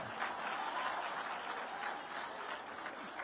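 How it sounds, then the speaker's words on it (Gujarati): Students applauding at an event with Gujarat's Chief Minister; a short burst of steady, dense clapping from a crowd, fairly close and even throughout. "એના તાળીઓથી વધાવવો પડે."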